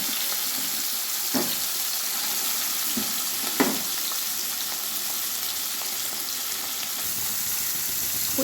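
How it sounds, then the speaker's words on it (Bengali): Small puti fish fry in hot mustard oil, giving a steady, loud, continuous sizzle throughout, with a few soft clinks and taps of a utensil over the crackling. "এবার মাছগুলো আমি ভেজে নেব।"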